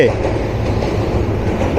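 The Ekota Express rolls across the Ghatina railway bridge in Sirajganj, a loud, close, continuous rumble of wheels and carriages with steady low roar throughout.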